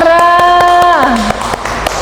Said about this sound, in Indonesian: tepuk tangan buat Mbak Rara.